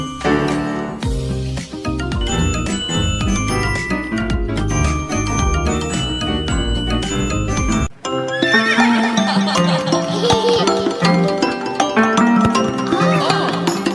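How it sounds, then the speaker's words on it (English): A horse whinnies within a bouncy children's song full of jingling bells and steady music, which shifts to a new melody partway through. "Neigh, neigh, the horses say."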